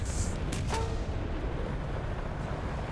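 A heavy shell impact on a tank's turret side in War Thunder lands as a deep, booming hit early on, then fades into a low rumbling engine drone.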